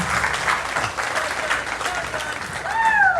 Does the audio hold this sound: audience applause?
yes